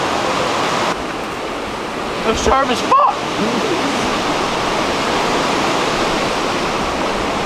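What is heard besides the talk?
rushing river in a canyon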